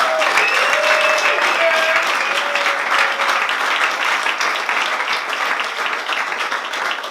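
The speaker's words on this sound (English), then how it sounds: "So we just have a good round of applause for those guys." Dense, loud applause from a room full of people at the Ignite Manchester Showcase 2016, a sustained wash of many hands clapping, with a few whoops and cheers rising above it early on.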